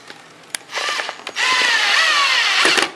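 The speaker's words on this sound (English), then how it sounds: "I'm going to go ahead and anchor my screws back in." A power drill drives screws into pre-drilled wood while a wooden table leg is repaired, heard as a short whirring burst followed by a longer, steady close-up run.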